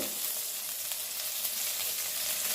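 Lentils frying in oil with ginger and green chilli for ragi kozhukatta, a continuous close hiss and crackle of sizzling with faint stirring, steady from start to end.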